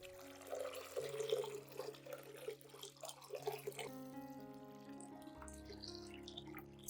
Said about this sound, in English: Add 1 liter of clean water to dilute the solution.